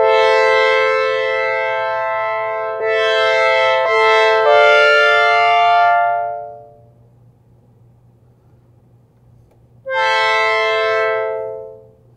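A Juno-style string pad on a Roland AIRA System-1 synthesizer plays sustained bright chords that swell and shift, fade out, then return for another held chord after a short pause.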